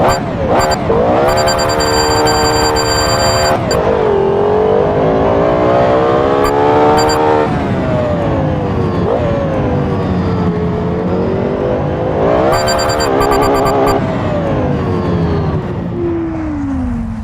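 A Lamborghini Aventador SVJ V12 screams through rising and falling revs and gear changes, loud and close, with sharp electronic beeps now and then and voices talking over it at times.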